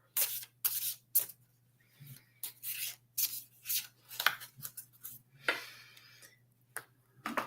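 A tarot deck being shuffled by hand during a reading, with short crisp riffling and rubbing bursts separated by brief pauses, close and fairly quiet with no talk.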